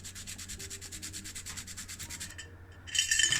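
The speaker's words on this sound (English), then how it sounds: "we're going to have to take this down a further level and go with some fine grit sandpaper" Fine grit sandpaper rubs back and forth on a 1985 Ford Escort MK3 part in quick, even strokes, a close, soft rhythmic scratching that pauses briefly before a louder final pass.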